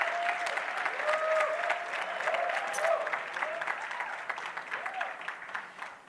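An audience at a corporate empowerment conference gives a speaker, a government minister, a sustained round of applause, dense clapping holding steady before thinning out toward the end, with a voice faintly audible underneath.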